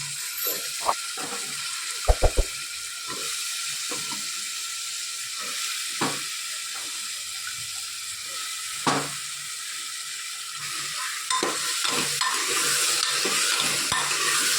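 Bottle gourd and potatoes get stirred into roasted masala in a pan, with a faint sizzle running throughout and scattered clicks and scrapes of a spoon, a quick cluster of taps early on.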